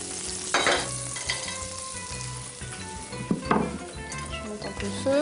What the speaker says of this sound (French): Je vais faire fondre un peu de beurre dans ma poêle et je vais faire revenir les petits croûtons pour qu'ils soient bien dorés